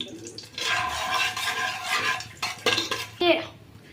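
Whole spices including cinnamon, cloves, fennel, cardamom and marathi moggu are stirred in a pan, with a spoon scraping and clinking against the metal over a faint sizzle.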